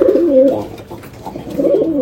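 Domestic pigeons in a fancier's collection cooing close by: a steady, throaty warbling coo that swells and falls over two seconds, with no voices.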